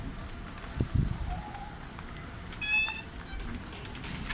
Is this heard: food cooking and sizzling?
no